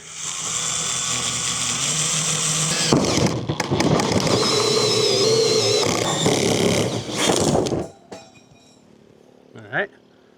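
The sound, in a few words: hole saw cutting a vent hole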